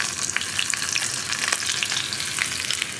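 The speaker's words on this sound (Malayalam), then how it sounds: "നമുക്കിതിലേക്ക് റൗണ്ടിൽ കട്ട് ചെയ്ത് വെച്ചിരിക്കുന്ന ഉള്ളിയും കറിവേപ്പിലയും ചേർക്കാം." Sliced onions and curry leaves frying with mustard seeds in hot oil for a raw banana and green gram curry, giving a steady, close crackling sizzle with no voices.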